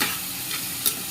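Oil sizzles steadily around sautéing onions, a soft crackling hiss with a few stirring scrapes close by.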